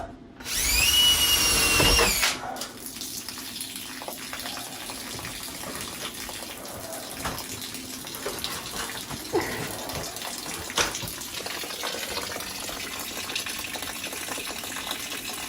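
Water gushes out loudly through a hole just drilled into the bottom of a low spot near old ductwork, starting with a brief drill burst and then pouring steadily and close for the rest of the clip.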